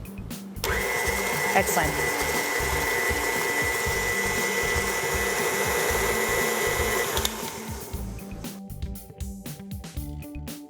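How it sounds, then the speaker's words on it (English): A stand mixer runs steadily on vanilla cupcake batter for several seconds, a loud continuous motor whir with a rattling beat, then switches off; a voice speaks briefly near the end. "I'm going to get the stand-up mixer and we're gonna start mixing"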